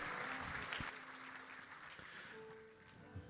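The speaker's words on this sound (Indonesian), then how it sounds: "Tepuk tangan lagi yang lebih meriah buat Tuhan kita." Church congregation applauding at a Sunday service, a steady wash of clapping that fills the room and stays fairly even throughout, with faint voices mixed in.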